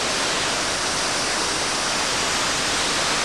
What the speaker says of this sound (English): we're down here, of course, in Wales, you get lots of waterfalls